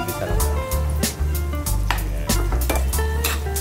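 Garlic and onion sauté in a hot pan, a dense continuous sizzle with scraping stirs and clinks of a utensil against the pan, close and fairly loud.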